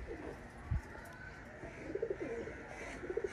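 Sialkoti 'Ali wale' pigeons coo softly in a few low, throaty bursts, with one near thump early on and quiet ambient noise throughout.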